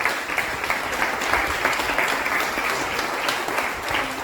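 An audience applauds a film producer at the inauguration of a high-tech production studio in Guadeloupe, with dense steady clapping that fills the room throughout at an even level.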